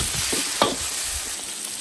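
Spices and Sichuan pepper hit a hot iron wok with a loud, steady, close hissing sizzle, with one brief sharper flare of frying just after the start.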